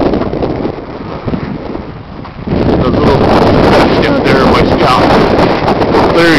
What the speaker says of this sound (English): It's freezing and very windy.